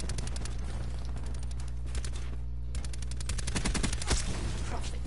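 Rapid automatic gunfire in a video game, dense bursts of shots with a short pause midway, loud and close.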